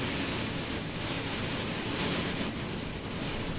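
Loud, steady rain pours down in a dense continuous hiss with no break, close by and unaccompanied by voices.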